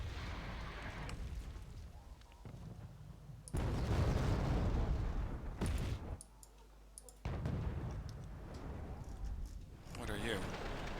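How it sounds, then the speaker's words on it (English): Artillery salvo explosions in the Wargame Red Dragon video game come as several loud bursts amid clicking interface sounds and battle noise, with a player talking over them. "Another artillery salvo."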